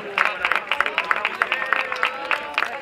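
Audience applause at an outdoor trophy ceremony for the Carrera del Roscón running race in Zaragoza. Steady clapping from a crowd fills the clip with dense, irregular claps and no one speaking over it.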